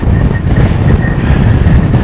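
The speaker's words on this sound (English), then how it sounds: "it is really windy and I'm relying on this microphone." Strong wind on the coast at Greatstone, Kent, at night roars and thumps against the microphone in a continuous low rumble, loud and close, with no talking.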